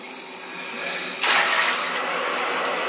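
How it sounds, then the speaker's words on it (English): A Seoul Stone shower head switches to full blast, a soft background hiss suddenly swelling into a loud, broad spray of rushing water that then holds steady. "let me turn on full blast to see how high the water goes"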